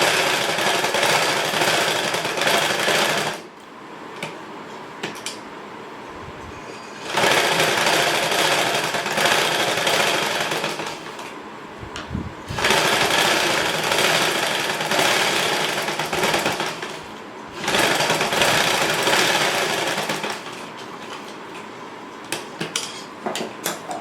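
A sewing machine stitches a blouse lining to the fabric in four long, loud runs of rapid, even clatter, separated by short pauses with faint handling noises.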